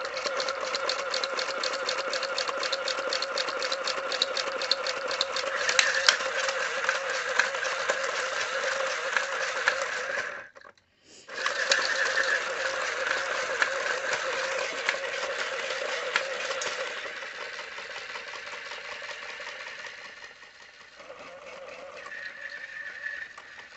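A snowflake spinner toy runs on a 12-volt adapter with a steady, buzzy mechanical whir and rapid rattling, cutting out briefly near the middle before starting again and fading lower toward the end.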